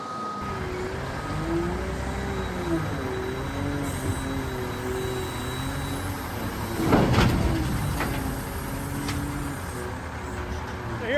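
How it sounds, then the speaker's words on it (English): A topsoil delivery truck rolls into a topsoil manufacturing yard, its engine rumbling steadily at close range and swelling into a brief louder surge partway through, with a faint high tone running alongside. "So here comes one of our drivers now, Scotty, coming in."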